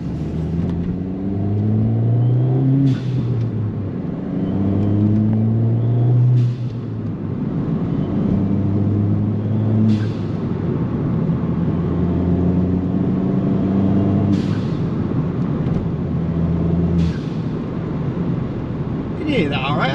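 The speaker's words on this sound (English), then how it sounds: "let's take this on a little go and hear this VTA DV by GFB" Ford Fiesta ST 180 fitted with a GFB vent-to-atmosphere blow-off valve, engine revving in loud, close pulls with short sharp venting whooshes as the throttle lifts, while people talk over it.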